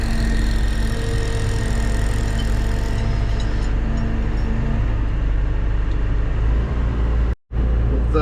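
A CAT 316 full-size excavator runs close by while digging footers and moving dirt, its diesel engine a steady loud rumble with faint clanks, cutting out briefly near the end before resuming.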